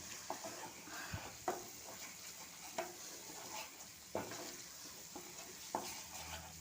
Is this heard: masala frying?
yes